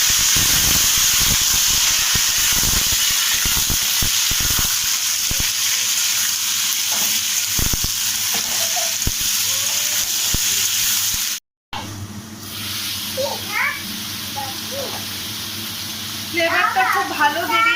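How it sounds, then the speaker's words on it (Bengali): Vegetables tossed into hot oil tempered with mustard seeds and curry leaves, a loud steady sizzle with stirring clatter, a brief cut, then continued frying hiss with a voice speaking briefly over it. "এবার দিয়ে দেবো তরকারিগুলো।"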